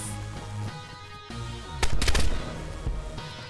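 Gunfire in DayZ: a sharp close crack followed by a rapid burst of loud shots, then one more shot, all over a steady droning game background with no talking.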